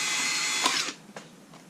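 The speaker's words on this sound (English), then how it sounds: "you're going to drill out your strip hole" A power drill whirs as it bores out a stripped thread hole in a chainsaw, running loud and steady for under a second before stopping, followed by a couple of faint clicks.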